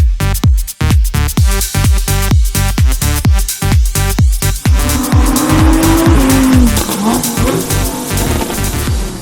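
A McLaren sports car accelerates hard through rapid gear changes, its engine note climbing and dropping in loud repeated bursts before the tires let out a long, sustained squeal near the end, with no talking.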